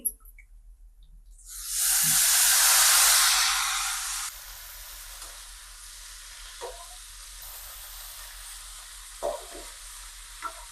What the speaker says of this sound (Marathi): आता आपण ही मेथी टाकून घेऊ।